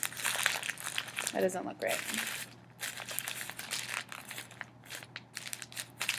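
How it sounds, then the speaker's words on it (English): Paper and tape crinkle and crush in bursts while a paper puppet is taped together, the rustling close and busy under ongoing casual talk. "you're going to kind of connect it to the body with some tape"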